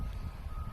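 Steady reversing beeps from heavy machinery at roadside earthworks beside a vineyard, heard over a constant low engine rumble and wind noise.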